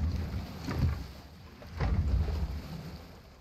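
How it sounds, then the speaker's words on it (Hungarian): Oars pull a boat through water in God of War, two soft swishing strokes about a second apart over a calm outdoor background of water and breeze. "Csónak! Lehetünk újra úszni."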